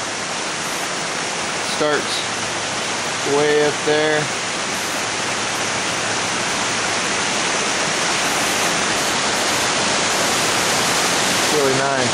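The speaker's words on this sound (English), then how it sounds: "Here's another waterfall." A waterfall on Falls Creek coming down out of the mountains near Jones Gap roars as a steady, broad wash of falling water, constant and close throughout, with someone speaking briefly over it a few times.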